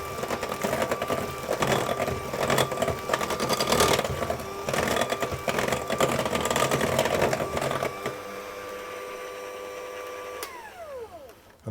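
Blondie batter with lemon juice is beaten with an electric mixer, giving a steady, loud motor whir with rattling that runs for about eight seconds and then winds down and stops.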